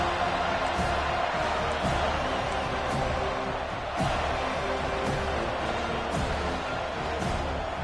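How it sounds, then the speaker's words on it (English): A stadium crowd in the college football game NCAA 25 making a constant loud roar of noise and cheering, dense and sustained throughout with faint thuds within it. "This crowd bringing the energy and noise early."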